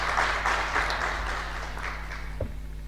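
Audience applause at a report launch in Lilongwe, Malawi: a steady, moderately loud round of hand clapping that carries evenly through the moment, with a low hum running beneath it.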